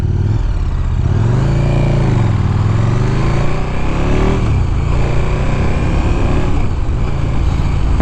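A 2015 KTM 1290 Super Duke R roars steadily while being ridden, its loud engine drone rising and falling in pitch as it accelerates and eases off, with constant rushing wind noise throughout.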